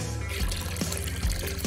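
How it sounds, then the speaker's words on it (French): Juice pours into a cup, a short close liquid splash and trickle with a few gurgling bursts, no talk. "maintenant je vais y verser un peu de jus."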